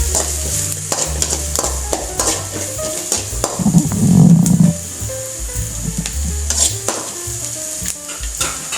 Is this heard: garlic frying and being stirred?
yes